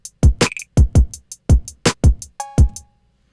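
Programmed hip-hop drum pattern in Pro Tools plays kick, snare, hi-hats, a rattle and a cowbell hit, sounding as a punchy, evenly spaced sequence of loud close hits that stops after about three seconds.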